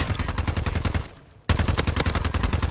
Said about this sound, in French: Ça tire par là.